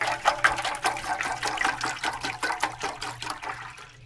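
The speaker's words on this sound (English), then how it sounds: "Fill it up with water." Water pours steadily into a small container meant to hold humidity in a tarantula sling enclosure, making a close, bubbly splashing that fades out at the end, with no talking.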